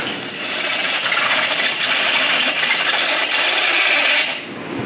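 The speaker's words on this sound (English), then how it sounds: "we're gonna go ahead and pilot it and then just run it out with a step drill" A continuous harsh, gritty grinding of a step drill cutting a half-inch hole through a metal Jeep Wrangler skid plate, loud and close, lasting several seconds before easing off.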